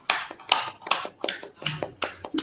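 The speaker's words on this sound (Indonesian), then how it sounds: "Tepuk tangan untuk kita semuanya." A group in a school collaboration session claps together in uneven bursts of hand claps, fairly close, with a faint low hum underneath.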